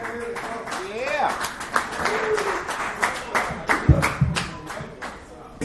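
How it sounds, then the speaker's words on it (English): A comedy bar crowd claps for a comedian, with scattered sharp hand claps and thumps under a voice speaking over them throughout. "Let's have another round of applause for Bruce McCarthy"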